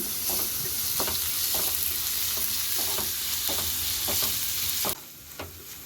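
Sliced onion and green chillies sautéing in a pan for paneer chatpat: a steady bright sizzle with repeated scraping stir strokes, the sizzle dropping away near the end.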